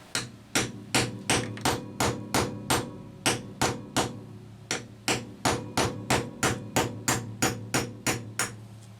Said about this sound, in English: we can go ahead and drive that through into the carburetor throat